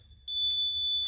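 A workout timer beeps during a home exercise session: a sharp, steady high electronic tone switches on abruptly and holds, loud and close, with no talking.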